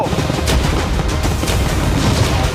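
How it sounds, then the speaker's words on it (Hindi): Cannons fire at a yacht in a rapid, dense barrage of booms and blasts, loud and continuous throughout with no pauses and no voices. "कैनन्स को फायर करो"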